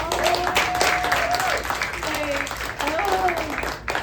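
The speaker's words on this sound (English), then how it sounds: "Can you clap it up for y'all?" An audience claps and cheers at a book release event, a steady wash of applause filling the room while someone speaks over it and voices rise through the noise.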